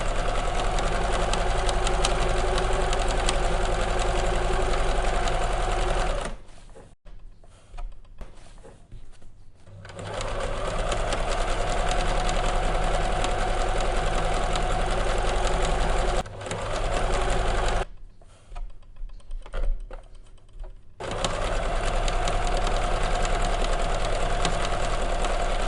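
A sewing machine stitches along the fabric edges of a potli bag, a loud steady mechanical whir with rhythmic needle clatter that stops twice for a few seconds before resuming.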